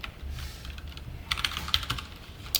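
Someone types a few keys on a computer keyboard, a soft close run of clicks, a short burst of taps and then a final pair of keystrokes, with no talk.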